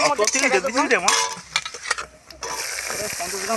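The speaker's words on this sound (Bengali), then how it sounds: "চিংড়ি মাছটা আমি বেশি ভাজবো না একটুখানি ভেজে নেবো অল্প করে" Prawns frying briefly with panch phoron in a pan: clattering stirring and a voice-like tonal sound give way to a steady, close broadband sizzle that fills the last second and a half.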